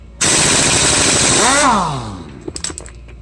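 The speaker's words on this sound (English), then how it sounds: "your handy dandy impact wrench, go ahead and remove the nut from the variator." A pneumatic impact wrench removes the variator nut on a scooter, hammering loudly for about a second and a half, then winding down, followed by a few faint clinks.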